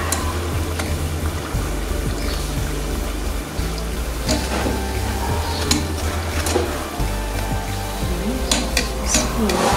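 Congolese mikate dough balls fry in hot oil, giving a continuous bubbling sizzle with scattered crackles and stirring clatter throughout.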